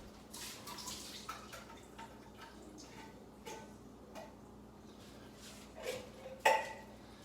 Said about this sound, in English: Let's drain the fluid off of them.